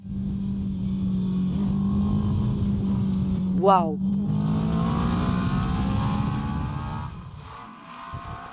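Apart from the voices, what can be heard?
Moto Morini motorcycle engine roaring and revving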